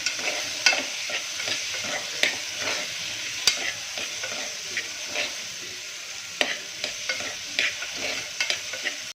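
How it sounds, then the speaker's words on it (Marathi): Tomato and peeled val beans frying in oil in a pan for a traditional val pulao, a steady close sizzle broken by repeated scraping stir clicks, with no talk. "टोमॅटो एक हे सोललेले वाल आहे ते घालत आहे हे सगळे दोन मिनटं परतून घ्यायचं छान तेलावरती"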